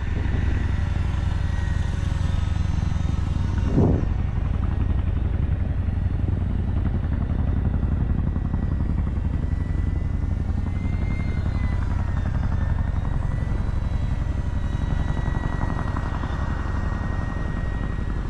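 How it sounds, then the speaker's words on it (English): A helicopter hovers over a valley, its steady droning rotor and engine noise filling the whole stretch at a constant, fairly loud level, with one brief sharper burst early on. "I can't watch the helicopter in my plane."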